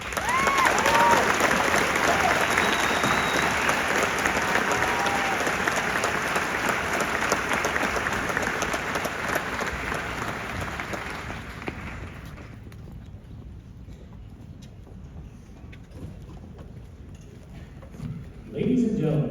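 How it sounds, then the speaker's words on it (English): Audience applause for soldiers at a National Guard infantry OSUT graduation ceremony, dense sustained clapping from a large crowd for about twelve seconds before thinning to scattered claps and background murmur. "please join us in giving these fine soldiers a round of applause"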